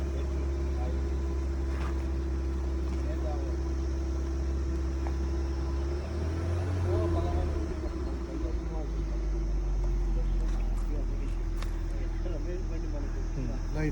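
A new Suzuki car engine idles and is revved, a steady low drone with a brief rise in pitch midway, while people talk over it.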